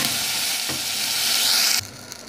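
Tomatoes tipped into a pan of frying garlic with a splash of vinegar, a loud continuous sizzle with stirring that cuts off sharply near the end, leaving a quiet pan.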